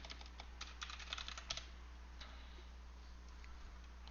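Keys clatter on a computer keyboard as commands are entered, a quick burst of clicky strokes followed by a few sparser taps, faint and close over a low electrical hum.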